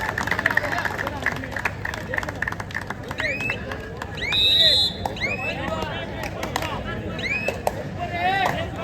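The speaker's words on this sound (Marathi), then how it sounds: "टाळ्या जाऊ द्या दोन्ही संघांसाठी" Spectators applaud both teams at a kabaddi mega final in Mumbai between Yuva Paltan and BPCL, a dense, steady wash of clapping and crowd hubbub lasting throughout, with shrill whistles and scattered voices cutting through the noise.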